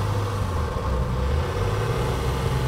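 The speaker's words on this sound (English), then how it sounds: "Listen to the downshift." A 1968 Mercedes 280SEL with a four-speed transmission, heard from inside the car while driving, its engine giving a steady low hum with a faint rise as the gear changes down, the road noise constant.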